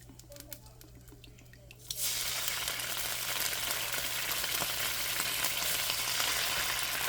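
Soy sauce and the rest of the ingredients hit a hot pan of sweet and spicy chicken stir-fry, setting off a sudden loud, steady sizzle after a quieter stretch of light clinks and stirring.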